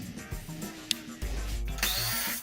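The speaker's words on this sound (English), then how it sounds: "What we have left is about 4 screws in the bottom that we're going to remove." A power drill backs screws out of the bottom of a wooden crate holding a Royal Sovereign RSC-1650 laminator, with short bursts of motor whir and sharp catches of the bit, heard close with no talking.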